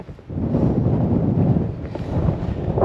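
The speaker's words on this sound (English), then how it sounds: "There's a hell of a breeze coming down." Strong wind roars across a microphone on an exposed hilltop during a forest hike and wild camp, a loud continuous rumbling buffet with gusty swells and no speech.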